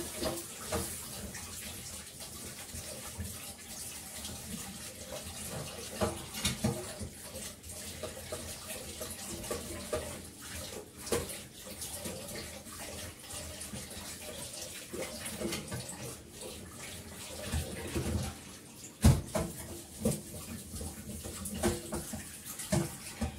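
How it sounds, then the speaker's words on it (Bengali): Water runs over a heavy wok in a sink while a wire scrubber scrapes and swishes at it, a continuous splashing wash with intermittent rattles and knocks of the metal pan, moderately close and unaccompanied by talk. "এই কাঁটা তার দিয়ে একটু ধুয়ে নেব।"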